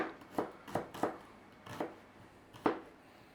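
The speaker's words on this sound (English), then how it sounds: "all we want to do is just slice these very thinly to go in there" A knife slices red onions or shallots thinly on a board, giving five crisp, separate cuts at an uneven pace, close and clear with no talk.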